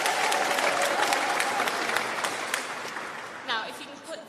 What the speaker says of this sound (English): if you can put that much enthusiasm into your applause